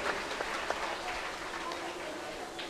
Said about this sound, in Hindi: जोरदार तालियां अपने लिए, खुद के लिए।